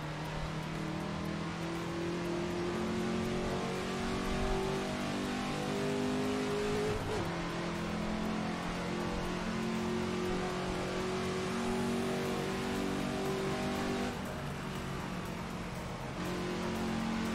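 A racing car's engine holds a steady, loud drone in Assetto Corsa, with gear changes marked by brief dips and pitch shifts as it keeps driving at speed, with no voices over it.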